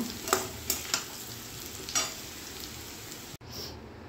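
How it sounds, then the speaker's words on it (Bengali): Bay leaf, garam masala and cumin seeds sizzle in hot oil, producing a close, even crackling hiss with a few sharp pops and clinks early on, then a brief cut and a fresh burst of sizzle. "তেল গরম হয়ে গেছে, তেজপাতা, গরম মশলা দিয়ে দিলাম, জিরে দিয়ে দিচ্ছি"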